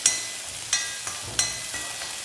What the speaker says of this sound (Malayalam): ചെറിയുള്ളി 8 ചെറിയുള്ളി, 5 വെളുത്തുള്ളി ഇട്ട് ഒന്ന് മൂപ്പിക്കാം.